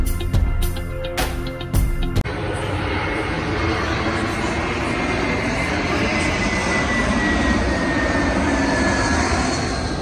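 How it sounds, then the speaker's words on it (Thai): Steady roar of an airplane landing close to a Los Angeles restaurant, a broad engine rumble that holds loud for most of the stretch after some brief clatter and voices at the start. "ที่นี่มันจะเป็นที่ลงของเครื่องบินต่างๆนะคะซึ่งมันก็จะเห็นเครื่องบินลงได้ชัดมากเลยนะคะ"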